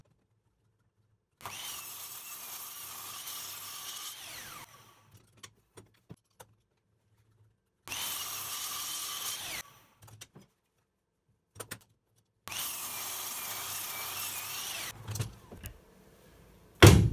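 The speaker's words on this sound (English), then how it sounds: "Use miter saw to cut all blocks to the same size." Miter saw slicing pallet wood blocks to equal size, in three separate loud cuts of a few seconds each, the motor whining steadily through each cut, with short quiet gaps and faint knocks between them.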